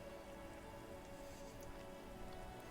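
Rain falling in the video game Disco Elysium, a steady faint hiss of drops pattering on surfaces, continuous and even with no voices.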